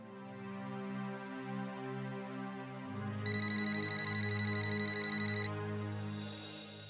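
A repeating electronic ringback tone on an outgoing telephone call pulses in steady, evenly spaced bursts, joined midway by a higher sustained tone, all at moderate volume.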